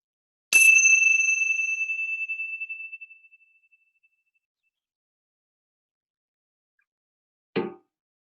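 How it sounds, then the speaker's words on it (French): A single struck meditation gong rings out clear and bright, its pure tone fading slowly over about three seconds into silence, followed much later by a brief soft knock. "Laissez résonner en vous le son de ce gong."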